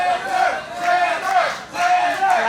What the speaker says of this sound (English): Crowd's still chanting for Zander